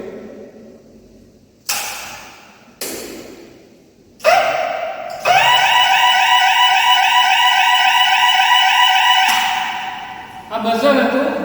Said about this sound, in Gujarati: આ બઝર હતું.